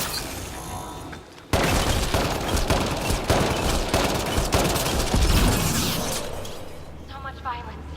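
Gun turret in Mass Effect Andromeda unleashing a sustained, loud barrage of rapid fire and impacts after a sudden start, with brief in-game dialogue at the edges.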